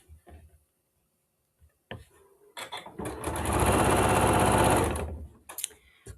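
A sewing machine stitching fabric scraps together for a crumb patchwork quilt: a few short clicks and starts, then a steady close whirring run of about two seconds that winds down into brief bursts.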